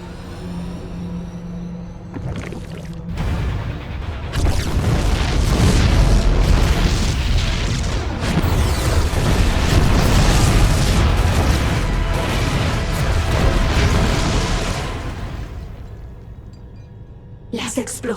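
Heavy explosions rumble continuously in StarCraft 2: Heart of the Swarm, a loud, sustained barrage of booms and blasts that swells for several seconds and then fades out.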